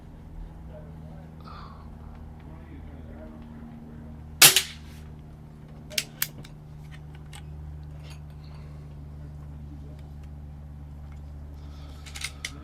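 Umarex Zelos .25 air rifle fired with a moderator fitted: one sharp, fairly loud crack stands out, followed by a few fainter short clicks, all over a steady low background hum.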